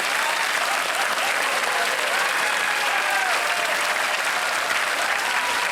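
On a television quiz show set, the studio audience applauds loudly and continuously, a dense, even patter of many hands clapping.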